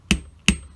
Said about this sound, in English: Tap with hammer.